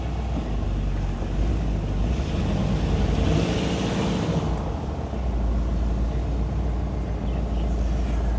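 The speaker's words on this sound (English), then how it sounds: "See, it starts like it's supposed to because it is fuel injected." A fuel-injected 1955 Cadillac restomod engine runs with a steady, low rumble, partly buried under heavy wind noise on the microphone throughout.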